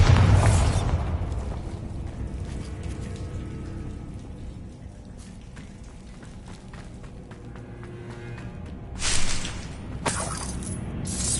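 Bombarda blasting spell going off in Hogwarts Legacy: a heavy burst at the start fading into a long rumbling, crackling wash like falling debris, with another sharp blast near the end.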